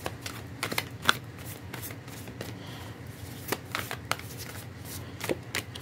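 Tarot-style cards are shuffled and drawn for a reading, a run of quiet riffling flutters and sharp card snaps scattered irregularly across the clip with no voice.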